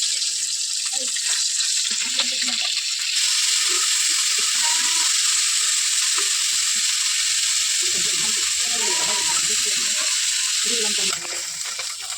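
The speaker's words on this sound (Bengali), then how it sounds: "মাছগুলো এখানে ভেজে নিচ্ছি" Small puti fish fry in a pan of oil, giving a steady, loud sizzling hiss that runs the whole time while a voice talks softly underneath.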